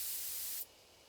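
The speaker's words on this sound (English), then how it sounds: "Carefully take aim and spray the drug." A drug sprayed at a bee hive in the video game Spirit Hunter: Death Mark, heard as one loud, steady hiss of spray lasting just over half a second, then cutting off into quiet.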